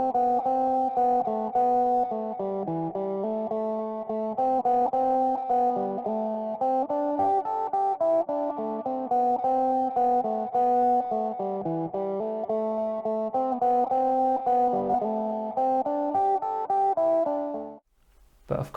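Guitar run through the filter of a Doepfer Dark Energy semi-modular synth, a steady stream of filtered, effected notes with a sustained harmonic tone that plays continuously for most of the clip before cutting off near the end.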